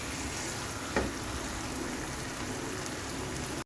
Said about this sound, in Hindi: इस पॉइंट पे अपने प्याज शामिल कर देंगे। इससे भून लेते हैं इसको थोड़ा